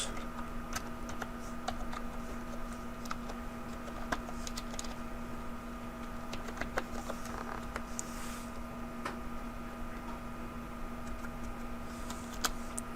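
Rapid, light clicks of typing on a computer keyboard tap out unevenly over a steady background hum, with keystrokes coming in short clusters and brief pauses throughout.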